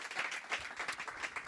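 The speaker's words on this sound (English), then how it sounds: "a big applause for RM" Audience applause following a talk at a Django developer conference, a dense wash of many hands clapping at moderate level, steady with small swells, no voices standing out.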